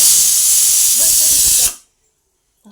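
Water heating in a pot to steam colocasia leaf rolls gives off a loud, steady steaming hiss that cuts off abruptly partway through, leaving near silence.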